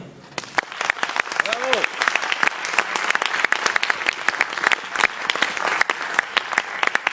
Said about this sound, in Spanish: Les suplico, demos un fuerte aplauso a Stage Company.